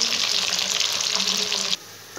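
Fish frying in a pan for a Bihari fish curry, giving a steady broad hiss of hot oil that runs for most of the moment and then drops away abruptly near the end.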